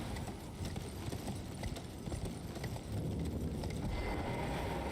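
Hooves clip-clop in a quick, rhythmic gallop as a horse runs in Elden Ring, close and steady over a busy game soundscape, growing slightly louder near the end, with no voices.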